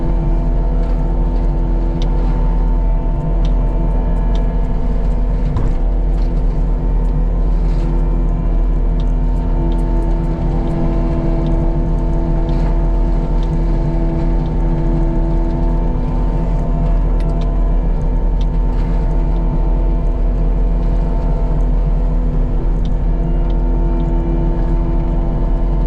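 A mulching machine drones loudly and continuously as it back drags through mulched chunks along a backyard property line, its steady engine roar unbroken for the whole stretch.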